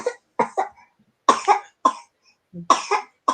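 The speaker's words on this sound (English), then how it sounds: "And coughing." A series of sharp, dry coughs in quick bursts, close and loud, with short silent pauses between them.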